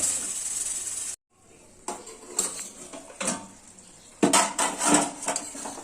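A lid goes onto a pot of simmering beetroot: a soft hiss gives way to a brief hush, then scattered metallic clinks and clatters of pot and lid, with a louder cluster of knocks near the end.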